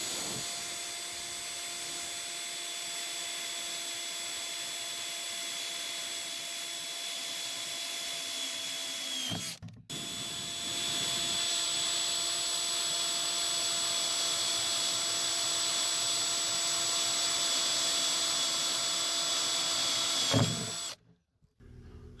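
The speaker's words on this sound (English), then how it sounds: "So all the holes are drilled." A power drill bores holes through plastic, a steady whirring drone running for about nine seconds, a brief pause, then a second long continuous run before cutting off.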